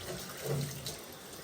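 Water runs briefly and faintly as a Dutch oven is rinsed outdoors beside a creek, a soft, steady splash and trickle with no talk.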